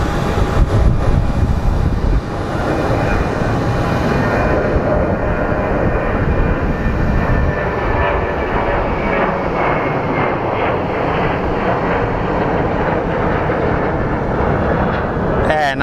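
An airliner departs Phoenix Sky Harbor International Airport bound for LAX, its engine roar sustained and loud throughout, a broad rumble with a faint whine and a slight swell partway through.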